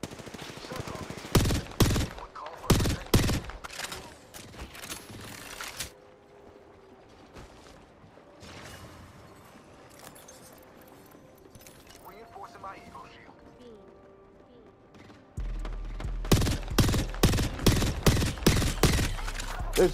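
Apex Legends gunfire crackles in loud rapid bursts at the start and again near the end, separated by a quieter stretch of mechanical game noise and clatter.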